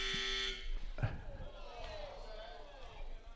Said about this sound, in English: the buzzer goes off when the guy's shooting a free throw